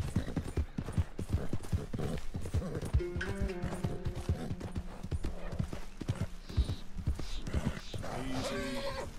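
Horse hooves clip-clop in Red Dead Redemption 2, a rapid, loud run of hoofbeats close by with an occasional whinny and snort, and faint voices briefly beneath.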